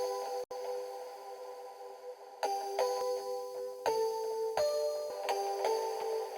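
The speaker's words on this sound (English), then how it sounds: "So I found these retro bells." Retro bell pad in a sad trap pop production: sustained bright chiming tones with soft struck attacks, new notes entering around each chord change, steady and fairly loud with no voices.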